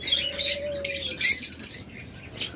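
Caged pet birds for sale, including lovebirds, cockatiels and doves, give bursts of bright, close chirping, with one sustained whistled tone early on and scattered tweets after it.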